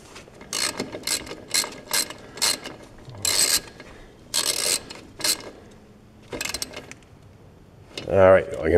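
A ratchet tightens the oil drain plug on a Polaris Sportsman ATV in loud, close bursts of rapid clicking, about eight strokes with short pauses, and then a voice speaks.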